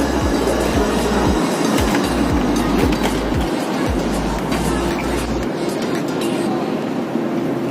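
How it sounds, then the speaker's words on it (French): Train pulling away on a Chinese railway, loud and close, with a steady low rumble and a run of rhythmic wheel clacks over rail joints that fade out midway, leaving a continuous rolling drone with faint voices in the background. "on va monter dans le train et puis on va démarrer"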